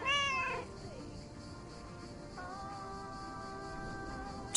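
A cat in the video game The Lake gives a short, bright meow with rising and falling pitch, loud and close at the start, then fades into a low background hum and game music.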